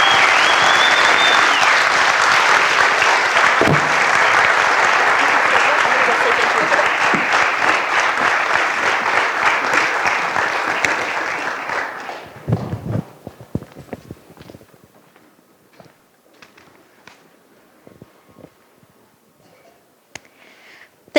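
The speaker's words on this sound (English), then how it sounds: "Can we give them all one huge round of applause?" An audience at an FFA program farewell event bursts into loud, sustained applause that holds for about ten seconds, then thins out into scattered claps and fades to quiet room noise.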